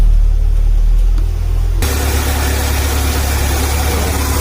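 A car engine starts and settles into a loud, steady idle close by, a constant low rumble after a brief change in tone, with no talking, during coolant bleeding after the check engine light cleared.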